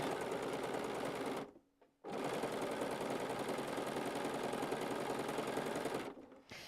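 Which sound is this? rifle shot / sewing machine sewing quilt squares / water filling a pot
sewing machine sewing quilt squares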